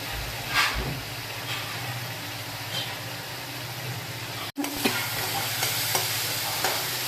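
Leftover rotli pieces sautéing in oil in a pan for a Gujarati dish, giving a continuous loud sizzle with occasional spatula scrapes and a momentary cut midway, with no voices.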